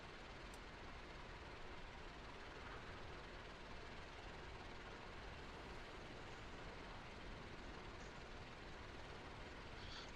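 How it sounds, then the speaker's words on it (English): Flying boat aircraft on the ramp during engine start, its fuel pump running as a steady broadband whir and hum, loud and continuous with no voices. "Fuel pump coming on."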